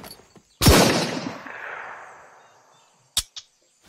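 Gunfire aimed at zombies in the survival game Deadpoly: one loud, close shot with a long fading echo, then two sharp quick shots a moment later, with no talk.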